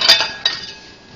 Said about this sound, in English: So I'm gonna turn the heat down to about medium, and then I'm going to cover it.